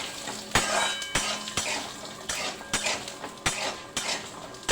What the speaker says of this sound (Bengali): বড়িগুলো আমি ভাজছি।